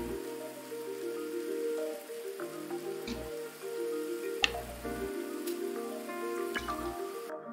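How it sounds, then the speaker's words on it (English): Heavy rain in the game Blue Reflection, a steady hiss of drops with sharp ticks and drips, heard under a sustained droning musical tone that drops out briefly several times. "the rain is really strong"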